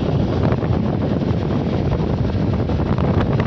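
Strong wind blows steadily outdoors, buffeting the microphone with a constant loud rush that holds at an even level throughout, with no voices.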